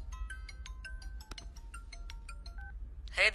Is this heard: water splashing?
no